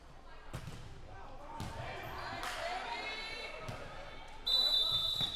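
At a 13U girls' volleyball match in a gym, a serve is struck with a sharp thump, followed by a few more ball impacts, while people talk nearby.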